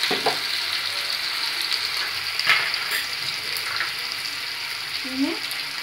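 Ground masala for a yam curry fries in a pan with a constant close sizzle, broken by a few brief clinks and scrapes of stirring.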